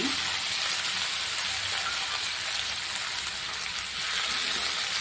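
Chopped tomatoes frying in a pan for pulagam rice, a steady loud sizzle with a broad hiss that holds evenly throughout, no voices.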